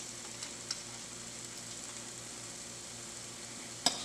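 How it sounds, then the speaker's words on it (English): Red fish stew with coconut milk simmering in a pot as pickled tomatoes go in, a quiet steady sizzle and bubble with a couple of soft clinks near the end, no talking. "We're going to add some pickled tomatoes to this, and it has a little bit of heat to it, so we're going to get that in the pot."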